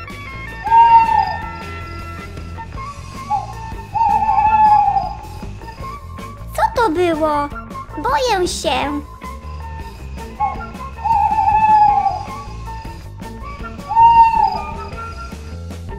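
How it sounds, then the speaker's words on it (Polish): An owl hoots several times at intervals, clear and fairly close, near a treehouse at night, while frightened children's voices speak briefly between the calls. "to tylko odgłosy sowy"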